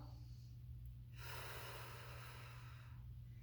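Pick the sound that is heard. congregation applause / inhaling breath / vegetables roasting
inhaling breath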